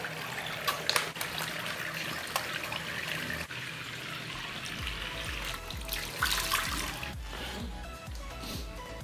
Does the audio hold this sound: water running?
yes